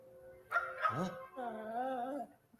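A dog in a movie trailer gives a few short yips and whimpering, whiny barks at close range, in quick succession over a quiet background.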